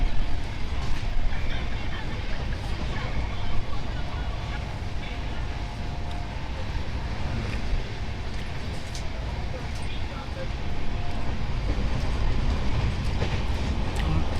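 Steady rumbling rail clatter inside a moving passenger train, a continuous loud low-frequency roar with faint rhythmic clicks running throughout, with some voices in the carriage.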